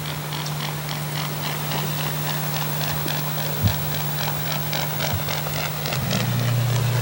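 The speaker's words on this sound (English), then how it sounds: "They make a racket taking off those white swans." White swans take off across the water, their huge wings beating the surface in a rapid, regular hoof-like patter that runs for several seconds over a steady low hum.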